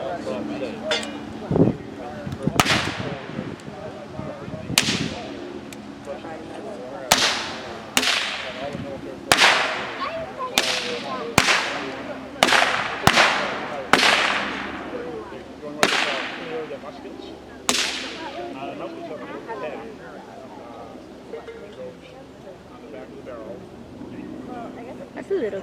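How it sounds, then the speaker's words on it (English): Musket percussion caps fired into the ground to clear the guns: a run of about a dozen sharp cracking pops, some close together, spread over the clip with voices and outdoor background between them. "have them fire just the percussion caps into the ground to make sure that it's clear"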